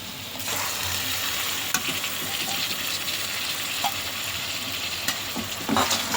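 Medium-sized tomatoes, chopped, fry in a pan with a bright, steady hiss close to the microphone. Occasional scrapes and knocks from stirring break through, with no talking.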